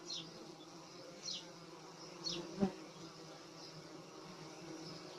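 Wild honeybees overwintered in a large willow buzz quietly as they work and carry pollen, a soft steady hum with a few individual bees passing closer, outdoors with no talk.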